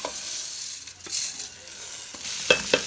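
Rice grains frying and being stirred in a pan for Egyptian rice, a soft continuous sizzle with a few sharper scraping clinks near the end, fairly close.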